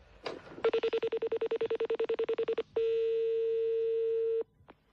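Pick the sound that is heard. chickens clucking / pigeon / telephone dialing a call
telephone dialing a call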